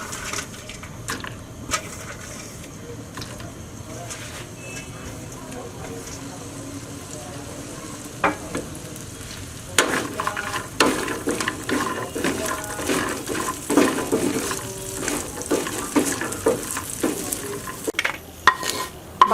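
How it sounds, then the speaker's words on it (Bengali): Cashew nuts fry in butter in a pan with a soft, steady sizzle, broken by scraping and clattering stirring sounds that grow busier and louder in the second half. "বাদামগুলো আমার ব্রাউন কালার করে ভেজে নেওয়া শেষ"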